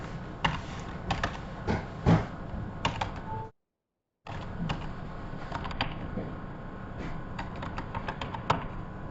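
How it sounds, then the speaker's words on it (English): Typing on a computer keyboard while entering a new password, a steady run of close, light key clicks with a brief silent gap partway through; no talking. "You're going to type in a new password."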